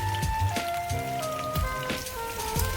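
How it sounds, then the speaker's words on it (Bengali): Cabbage-wrapped chicken rolls sizzle in hot oil as they turn golden brown on both sides, a steady close crackle with soft pops, a faint musical tone running underneath. "দুই পাশটাই এইভাবে হালকা একটু গোল্ডেন ব্রাউন করে ভেজে নিচ্ছি"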